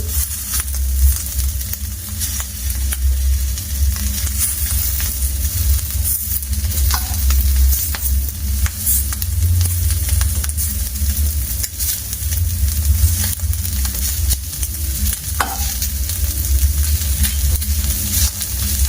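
Thai sai ua herb sausage sizzles steadily in a dry pan without added oil, a dense continuous crackle and hiss with occasional louder pops, close and alone.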